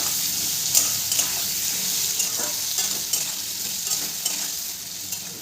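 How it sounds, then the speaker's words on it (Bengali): Potatoes frying in oil over a medium gas flame, a steady bright sizzle with light stirring clicks and scrapes scattered throughout. "গ্যাসের ফ্লেমটাকে মিডিয়ামে রেখে আলুগুলোকে আমি ভালো করে ভেজে নেব।"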